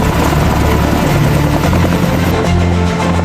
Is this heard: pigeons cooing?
no